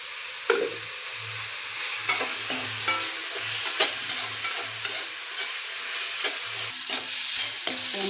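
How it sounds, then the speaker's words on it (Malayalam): Onion sautéing in a pan gives a continuous bright sizzle, with repeated soft scrapes and thumps of a spoon stirring at a loose rhythm, close and steady, with no one talking. "ഉള്ളി വാടിക്കൊണ്ടിരിക്കുന്നു."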